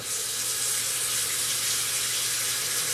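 Water runs from a faucet into a sink after a drain repair, a steady, close hissing rush with no speech over it.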